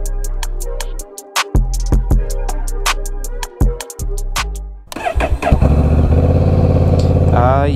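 A Honda Rebel 1100 motorcycle starts after a few seconds of rhythmic clicking and tapping, then settles into a loud, close engine rumble that swells as it revs.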